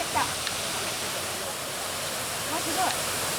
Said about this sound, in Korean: 어디선가 물소리가 들리면서 하얀 연기가 휘어오르기 시작한다